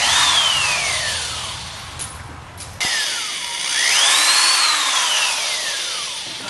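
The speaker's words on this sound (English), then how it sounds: "we finished drilling the rivets out." A power drill whines in repeated bursts, pitch falling and rising as it drills out metal rivets on a golf cart dash, loud and close with a brief pause midway.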